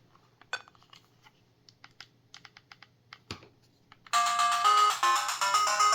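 Moon Patrol video game on an Evercade handheld console: faint clicks and button taps at first, then bright electronic chiptune music and beeps burst in loudly and keep playing.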